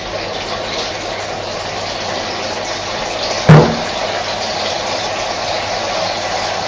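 Cold oil drains down through a filter in a 220-litre de-watering system, a steady trickling, gurgling wash with one sharp knock midway, close and continuous.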